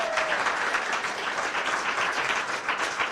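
Sustained crowd applause and cheering for a poet at a poetry slam, dense and steady throughout with no pauses.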